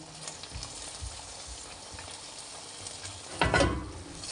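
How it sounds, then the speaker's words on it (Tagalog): Pinakbet, a vegetable stew, sizzles quietly in a pan while it is stirred. A louder burst of scraping and frying comes near the end, with no talking. "At this point, pwede na siyang haluin."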